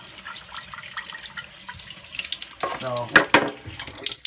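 Water splashes and gushes over a dirt plug clogging a rooftop unit's drip tube, rising into a louder close pour toward the end, with a voice briefly speaking.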